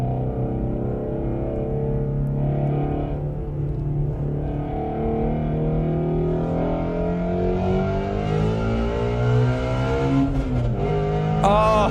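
Exhaust of a car revving hard and pulling through the gears, up to around 9,000 RPM with boost: a loud, close engine roar climbing in pitch in long sweeps, then a sharp popping burble at the end.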